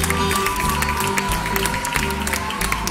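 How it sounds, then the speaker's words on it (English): Congregation clapping hands in praise during a church prayer service, a dense, steady wash of applause running the whole stretch with music and voices mixed underneath. "Why don't you clap your hands unto the Lord?"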